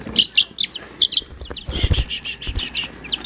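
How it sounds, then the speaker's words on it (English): Young barred rock chickens kept indoors on a kitchen counter give a run of close, repeated clucks and chirps, with a brief rustle of wings partway through and no talking. "So this is our barred rock."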